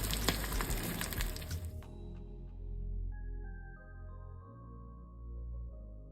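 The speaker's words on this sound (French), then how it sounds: "Là, vous avez notre première tranche de saumon qu'on va frire." A slice of salmon fries in a pan, with a bright, crackling sizzle for the first two seconds that then settles into a quieter, steady hiss with faint tones.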